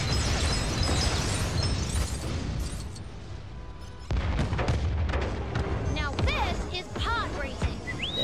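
Explosions of destroyed power cores in the Lego Star Wars: The Skywalker Saga video game, loud booming bursts layered with game effects and music, running throughout with a sharp blast in the middle.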